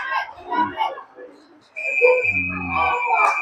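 A referee's whistle at a PeeWee AA youth hockey game gives one sustained shrill blast lasting about two seconds, loud over rink noise and an announcer's voice.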